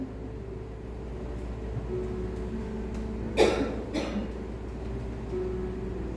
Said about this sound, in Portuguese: Melhor dessa tosse